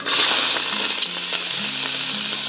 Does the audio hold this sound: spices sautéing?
yes